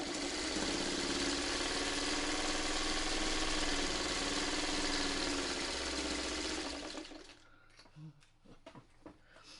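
A sewing machine stitches a burrito tote bag with a steady, loud motor whir and needle rhythm for about seven seconds, then stops, leaving quiet handling clicks.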